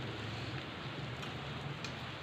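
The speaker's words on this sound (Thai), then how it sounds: "บรรยากาศฝนตกครึ้มๆ" Steady rain falling during an overcast downpour, a dense even hiss with faint tapping of drops on surfaces, continuous and moderately distant.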